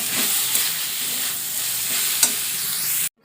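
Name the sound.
drumstick leaves (sajne shak) frying and stirred in a pan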